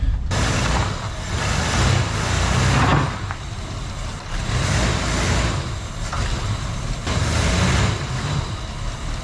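A 1979 Ford Ranchero GT that sat for 20 years, its engine rumbling loudly and rising in surges as it strains to move, with the wheel locked up.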